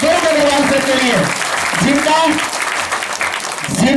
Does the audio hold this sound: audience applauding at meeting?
yes